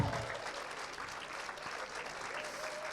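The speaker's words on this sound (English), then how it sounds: "You've got to keep clapping till they're on stage." An audience at the Spirit of Manchester Awards 2024 claps steadily as award winners go on stage, a dense continuous round of applause.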